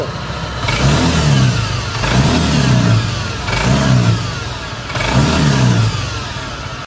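A Honda PCX automatic scooter on its center stand revs repeatedly, its engine rising and falling in about four strong surges with brief drops between, loud and close with no talk.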